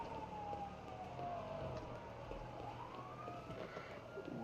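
Ambulance siren in the video game GTA FiveM, a faint wailing tone sweeping slowly down then back up, heard somewhat distant beneath a steady low rumble of game ambience.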